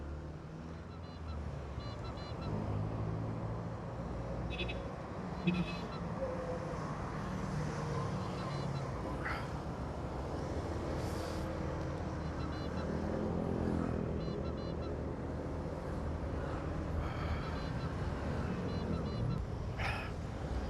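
Geese honking and fowl calling repeatedly in the background of a steady noisy trip, the bird sounds fairly faint and intermittent under traffic-like rumble.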